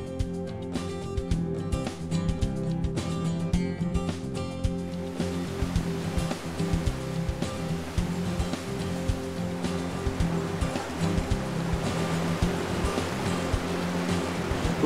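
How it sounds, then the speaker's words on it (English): Heavy water rushes through the Enlarged Cotter Dam after days of rain, a steady loud roar of flowing water filling the whole span. "we've got a serious flow of water coming through the dam"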